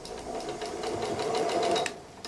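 A sewing machine runs at a slow, even pace while stitching patchwork fabric for a quilt and cushions, a close, continuous rhythmic whirring that lasts about two seconds before stopping abruptly.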